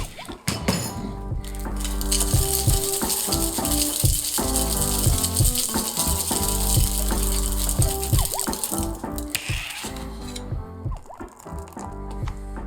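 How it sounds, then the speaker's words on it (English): Ice rattles hard inside a metal cocktail shaker tin during a reverse dry shake, a fast continuous clatter close up that runs about ten seconds and then eases off, with no talk. "Dump the ice and shake it again for about 10 seconds."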